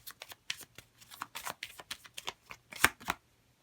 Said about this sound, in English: Let's get an extra playing card here.